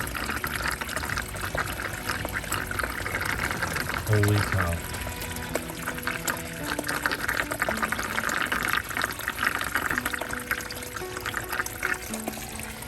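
Water pours and drains steadily in a flooded crawlspace beneath a house with a cracked foundation, a constant rushing flow heard up close, with a brief exclamation from a person partway through.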